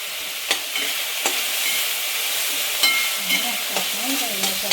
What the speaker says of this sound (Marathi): मक्याचे दाणे चांगले परतून घ्यायचे। सगळं चांगलं परतून घ्यायचं।